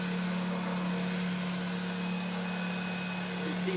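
A 1973 Hoover 3021 spin dryer runs with a steady mechanical hum and a strong low drone, vibrating hard, continuous and close.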